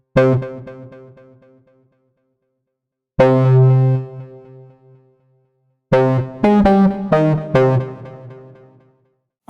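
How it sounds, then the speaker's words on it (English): Squid SQ-3 synth chords and short melodic notes ring out through reverb with long, smooth decaying tails that fade into silence between phrases. "Reverb."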